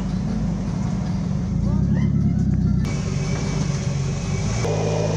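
Diesel truck engine rumbling and being revved in short bursts while palm oil fruit is loaded, a loud low drone with a step up in intensity partway through; someone speaks over it.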